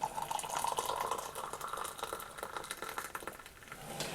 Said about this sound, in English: So let's get the kettle boiling.